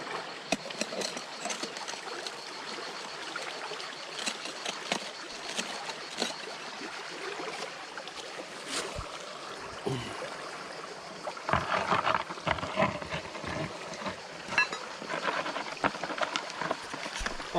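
Water swishing and trickling in a gold pan being rinsed in a French stream, a steady close splashing wash that grows louder and more agitated toward the end.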